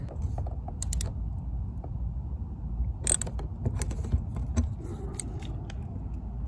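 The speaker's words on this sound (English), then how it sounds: "take this hand and screw that bolt in" A license plate bracket bolt on a BMW E46 Touring wagon is screwed in by hand, giving soft, close creaks and small ratcheting clicks at irregular intervals over a low rumbling background.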